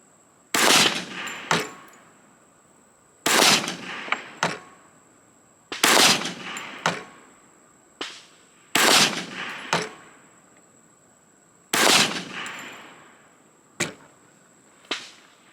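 A Glock 21C pistol firing Mills .45 ACP ammunition at an outdoor range: sharp, loud reports in quick pairs and triples, each with a ringing metallic ping and decaying echo, separated by short pauses.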